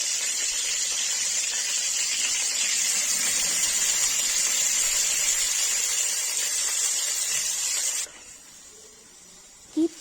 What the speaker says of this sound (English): Start fry chicken on medium flame.